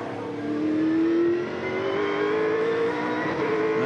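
V8 Supercar at Sandown in 2001, its engine howling loud and close as it accelerates out of a corner, pitch rising steadily through the gear with a brief lift midway and no voices over it.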